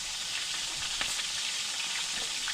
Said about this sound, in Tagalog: Kaya magprito talaga mga tayo. Nakatalsik-talsik tong mantika.